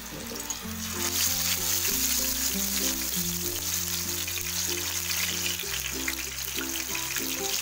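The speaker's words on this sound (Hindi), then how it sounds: "अब हम ये मछली ना फ्राई करना स्टार्ट करते हैं।" Fish frying in hot oil in a pan, a loud continuous sizzle and crackle with a melody playing over it and no talk.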